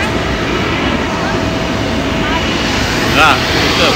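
Large airplane after landing, a steady loud engine roar filling the surroundings, with a voice talking faintly and briefly near the end.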